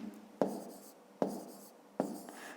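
Pen strokes scratching numbers onto paper during a fifth-grade arithmetic exercise, three distinct bursts each starting with a sharp tap and trailing into softer scribbling, close and quiet.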